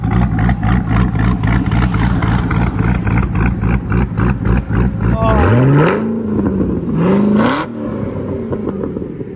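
Car engine with a choppy cam idle and Corsa exhaust, a loud lumpy pulsing lope that swells into two quick revs and then settles, with a voice briefly audible over it.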